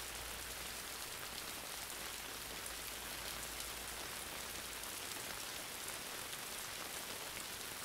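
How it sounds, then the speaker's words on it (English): Steady rain patters down in a dense, even hiss of raindrops striking a surface, soft and constant with no other sounds. "from hearing the patter of each raindrop"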